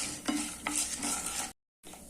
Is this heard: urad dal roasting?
yes